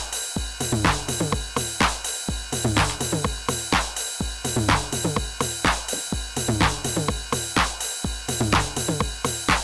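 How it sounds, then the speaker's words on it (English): Steda Electronics SR-909 drum machine running a pattern through master distortion: a punchy, looping groove of booming kicks, snappy hits and bright hats repeats steadily and loudly, with no voices over it. "Oh, that's the sound of the SR-909."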